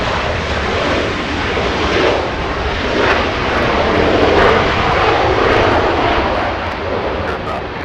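An airliner comes in to land on runway 24 right at Los Angeles International Airport, its engines a loud, sustained roar that swells and eases as it passes.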